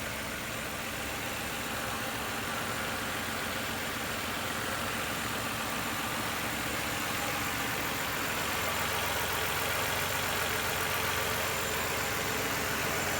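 A 2008 Nissan Maxima's 3.5-liter VQ V6 idles steadily at close range, a smooth continuous engine drone with no speech over it.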